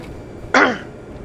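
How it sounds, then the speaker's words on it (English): A smoker's throat-clearing cough, one short harsh burst lasting under half a second, close and fairly loud, with quiet background before and after. "That cough in my throat, that's because I'm a smoker and I smoke pot"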